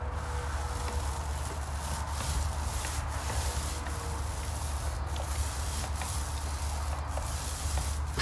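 Steady soft brushing of paint onto a wall, a continuous close scratchy swish with faint rhythmic strokes and no speech.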